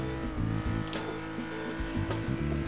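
A Ferrari Dino in the racing game Test Drive Unlimited 2 drives along with a fairly quiet, steady engine drone that shifts pitch a few times, joined by brief sharp bursts like tire noise.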